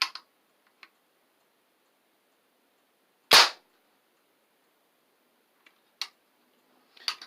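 A toy flintlock rifle cap gun fires a single sharp, loud crack in an otherwise quiet room, surrounded by a few faint mechanical clicks from cocking and handling.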